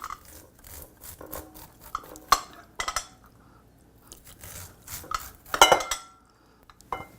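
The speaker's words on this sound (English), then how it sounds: "to put it on a little dish like this, primarily to save my knife, so I'm not ruining the blade by hitting the bottom of my bowl" A knife scrapes corn kernels off the cob over a small dish, making close, irregular rasping strokes with light clinks of the blade against the dish and a few louder knocks.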